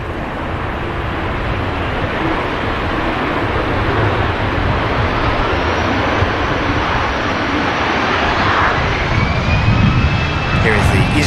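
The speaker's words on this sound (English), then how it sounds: "Here is the EasyJet from Copenhagen up to Scandinavia." An EasyJet jet airliner bound from Copenhagen for Scandinavia rumbles past at Manchester Airport, a sustained engine roar with a faint whine rising toward the end, with a voice talking over it.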